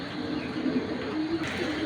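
Pigeons coo in low, steady murmurs against a constant broadband background hiss, several soft calls running together close by without talk.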